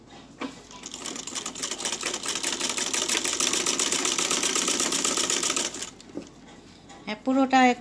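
A sewing machine runs in one fast, steady burst for about five seconds while stitching piping along a gown's neckline, close by and then stopping, followed by a moment of someone speaking.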